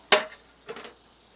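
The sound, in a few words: tamale pie filling sizzling over hot cornbread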